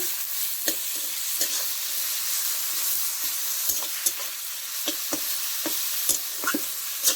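Garlic paste frying with onions in a pan gives a steady bright sizzle, punctuated by repeated sharp clicks and scrapes from stirring, close and moderately loud, with no talking.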